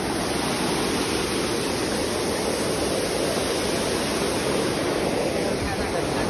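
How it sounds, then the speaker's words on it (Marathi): A hidden waterfall near Powai roars in the rainy season, a steady, dense rush of pouring water that stays loud and unbroken throughout, with no other sound rising above it. "बॅक साईडचा हिडन धबधबा."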